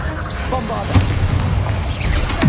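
A Bombarda blasting spell goes off in Hogwarts Legacy with a deep boom near the start and another burst at the end, loud and close over battle noise.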